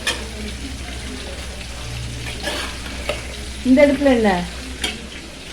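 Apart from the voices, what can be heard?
mutton fry being stir-fried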